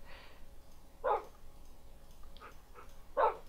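Dog in Minecraft giving soft yips and whimpers, a few short separate cries spread out over a quiet game background.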